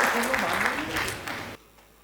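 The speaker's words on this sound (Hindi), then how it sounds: "आपकी तालियां गरजनी चाहिए यहाँ पर" Applause from the audience at a Hindi poetry recital, a dense burst of clapping under a voice that fades and cuts off abruptly near the end.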